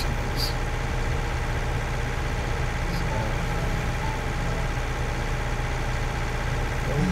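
A tractor engine in the farming video game Farming Simulator 19 drones in a steady, continuous low rumble, loud and unchanging throughout, with no talking heard.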